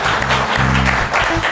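A studio audience breaks into loud, dense applause that fills the whole moment from start to finish.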